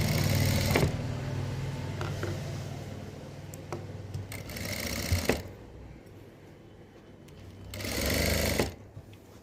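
A sewing machine stitching a sleeve onto a garment runs in long, steady whirring bursts with a rapid needle rhythm, pausing between runs, close and fairly loud.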